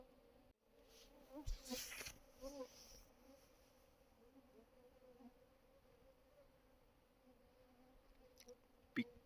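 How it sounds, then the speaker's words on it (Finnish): Mosquitoes buzz faintly beside a river in Finland, a thin steady whine under the quiet outdoor ambience, with a few louder bursts early on and a brief sharp knock near the end. "Pikkusen on sääskiä."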